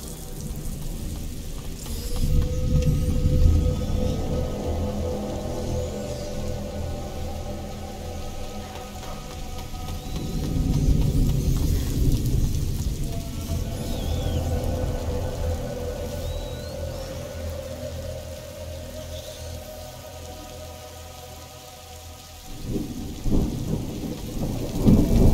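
Rain and rolling thunder in the video game A Plague Tale: Innocence, a steady downpour with deep thunder rumbles swelling and fading over about twenty-five seconds, rising again loudly near the end.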